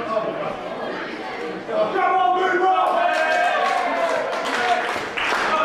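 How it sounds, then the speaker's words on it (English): Wrestling crowd at a live indie wrestling event cheering and chanting loudly, building into sustained roaring noise with a commentator talking over it. "And now Darko getting the crowd behind him."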